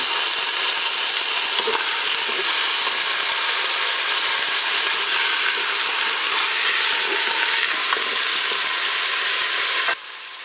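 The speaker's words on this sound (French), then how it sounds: "dorer mon rôti sur toutes ses faces. Jusqu'à 2 minutes de fonction dorée, je vais ajouter mes morceaux d'oignon" A roast with onion pieces browns in a Cookeo multicooker, giving a loud, steady sizzle and crackle that runs unbroken for the whole stretch with no one talking.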